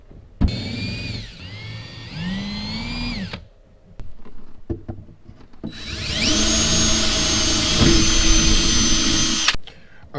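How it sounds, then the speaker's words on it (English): A power drill whines in two bursts drilling holes in a boat, revving up and down, with a pause of small knocks between them; close and loud. "Let's drill some holes in my boat."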